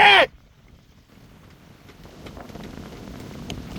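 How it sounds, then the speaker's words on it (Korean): Steady wind buffeting a microphone aboard a sailboat off Pohang, a low rushing noise that builds gradually after a brief bright burst at the start. "바람이 계속 10, 19노트 정도 바람이 불고 있고 곧 20노트까지 불 것 같아요"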